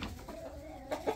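Hens in a coop give a couple of soft, brief clucks over faint background rumble, close but quiet.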